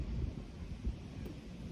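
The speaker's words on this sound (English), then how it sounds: "it's windy out" Wind buffets the microphone outdoors by a baseball field in a park, a steady low rumble with gusts and no clear voices.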